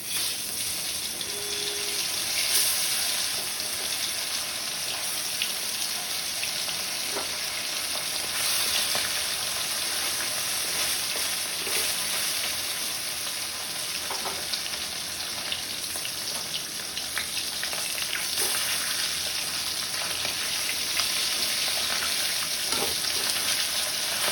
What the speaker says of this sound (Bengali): কাকি মাছগুলো ওরকম করে ভেজে নেবো